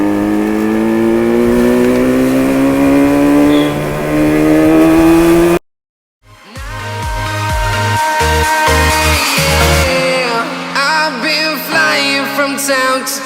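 A stock 1984 Yamaha RD 350 HT motorcycle engine on a ride gives a loud, steady drone that climbs in pitch for several seconds, then cuts off abruptly as music begins.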